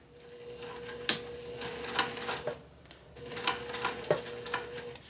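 A sewing machine stitches a seam on a fabric bag right up against the stabilizer, a mechanical clatter with a steady motor hum, running in two short bursts with a brief pause between them.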